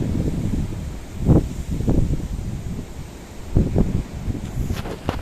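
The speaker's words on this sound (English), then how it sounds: "the wind's gusting everywhere." Steady outdoor wind at a waterside pike-fishing spot roaring across the microphone, with several stronger gusts surging and fading, the loudest bursts arriving at irregular intervals.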